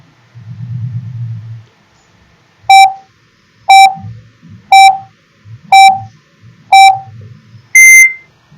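A quiz countdown timer beeping five times at a steady one-second pace, each tone loud and clear, ending in a sharper, higher final beep, with low rumbling sounds in between.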